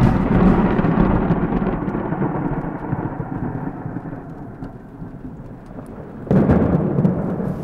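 Thunder from a thunderstorm rumbles long and deep, a loud rolling boom that gradually fades, then swells again with a fresh crack near the end, heard over steady rain.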